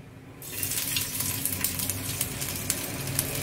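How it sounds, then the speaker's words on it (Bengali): Whole garam masala and ginger paste fry in hot oil for a vegetarian parwal malai curry, a steady loud sizzle and crackle rising after a quiet first half-second and running continuously without talk. "এবার আমি গরম তেলে গোটা গরম মশলা ফোড়ন হিসাবে দিয়ে দিলাম"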